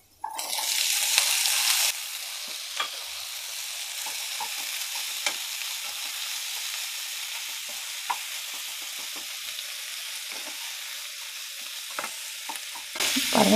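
Green chilies and chopped citron sizzle in a pan for a pachadi, a steady hiss running throughout while a spoon scrapes and taps the pan in scattered strokes, with louder bursts at the start and end, close and without talk.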